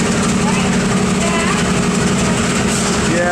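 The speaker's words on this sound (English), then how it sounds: "Well, the diesel locomotives coupled on now." An Amtrak diesel locomotive idles at a station platform, a loud steady low rumble with a constant engine drone filling the whole stretch.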